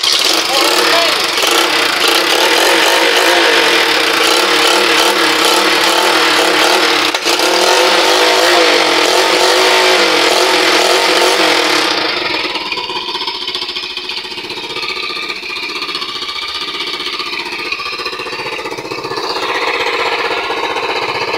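A long-stored motorcycle engine runs and revs hard at first, a loud rough roar with sharp throttle bursts, then settles to a lower, steadier idle near the end while people talk over it.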